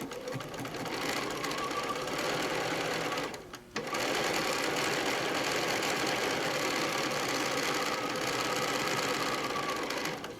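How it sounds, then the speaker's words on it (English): A sewing machine stitches two fabric pincushion pieces together in a steady, even mechanical whir that runs almost unbroken, with one brief stop partway through before the motor resumes. "we're going to take 2 more footballs and we're going to sew those together"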